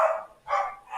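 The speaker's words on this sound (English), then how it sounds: "Y'all hear them dogs?" Dogs barking in three loud, close bursts about half a second apart, with nothing else heard around them.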